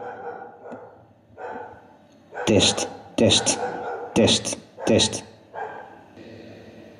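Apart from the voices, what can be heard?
dog barking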